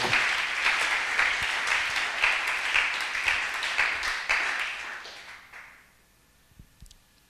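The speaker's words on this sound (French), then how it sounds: "Tobete likolo na biso maboko makasi." A church congregation clapping together during a service, a dense, loud burst of applause that holds steady for several seconds, then fades out, leaving a few scattered claps in a quiet room.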